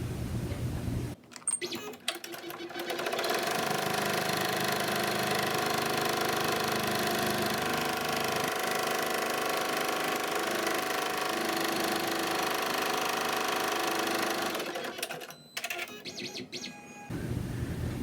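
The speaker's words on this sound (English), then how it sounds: "Now I'm going to sew down the side" An embroidery machine stitches down the side pieces of a flat-front face mask in the hoop, a steady close mechanical whir with rapid needle clatter running for about fourteen seconds, starting and stopping abruptly.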